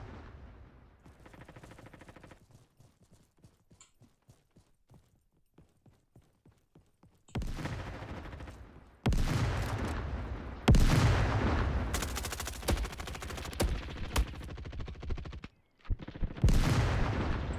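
Video game gunfire in Deep Rock Galactic, starting with a sparse series of faint single shots and then breaking into long, loud, dense bursts of automatic fire with brief pauses between them.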